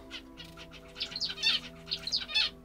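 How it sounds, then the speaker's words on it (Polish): Zebra finches chirp in the background in a bright, repeated series of short tweets, with a low steady hum running underneath. "Zeberki w tle."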